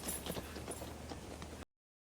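Horse hooves clip-clop in a quick, uneven rhythm as horses are led away, fairly close and clear, with no talking, then the sound cuts off abruptly into silence.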